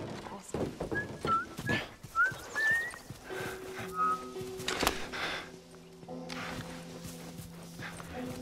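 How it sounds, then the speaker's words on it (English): A character in The Last of Us Remastered whistles a short series of rising notes, fairly faint amid game ambience, hoofbeats and other noises, with speech mixed in. "I'm whistling."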